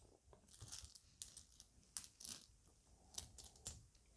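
Silver commemorative 100 zloty coins handled close by, with faint scattered clinks and light metallic taps among soft rustling, quiet and intermittent.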